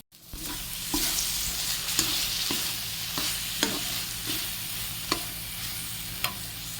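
Stored green peas fry in a spice paste in a karahi for niramish aloo dum, a steady close sizzle broken by sharp spatula scrapes and stirs about once a second, with no voices.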